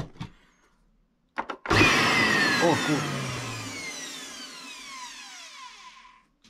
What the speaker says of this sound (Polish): Silnik działa.